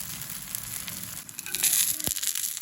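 Wheat ada dosa frying in coconut oil on a pan, a steady soft sizzle with a few crackles rising briefly in the middle, close and fairly quiet with no talking.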